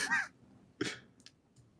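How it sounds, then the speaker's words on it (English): Two short, harsh coughs burst out close to the microphone, followed by a few faint clicks. "I just coughed very hard into my mic."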